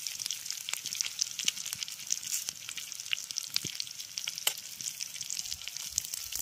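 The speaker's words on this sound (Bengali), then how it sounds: "এবার ফোড়নটাকে একটু ভেজে নেব।" Steady crackling sizzle of dried red chilli, bay leaf and five-spice frying in hot oil, with sharp pops and spits scattered throughout, close and continuous.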